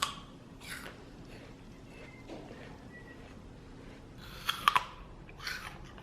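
Someone chews an old apple, with soft, close mouth sounds and a few sharp crunchy bites near the end against a quiet background.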